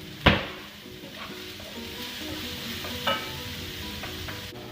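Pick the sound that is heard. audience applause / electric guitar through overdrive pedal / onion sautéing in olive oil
onion sautéing in olive oil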